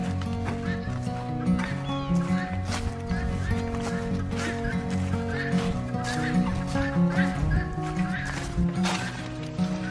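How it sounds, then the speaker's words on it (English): Quail and baby chicks being let out of their coop on a farm, a steady chorus of close cheeping and chirping calls with scattered louder peeps and some rustling throughout. "Letting the baby chicks out now during the day"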